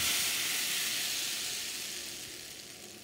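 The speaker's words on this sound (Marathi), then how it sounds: "आता मी याच्यामध्ये ही फोडणी घालते" A hot tempering of cumin and green chillies hits a chutney with a bright hissing sizzle that starts loud and fades gradually over a few seconds, no voices.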